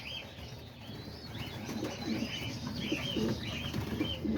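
Pigeons coo and rustle inside a loft housing roller and homing pigeons, a steady low murmur of overlapping coos with some wing flutters, close and continuous.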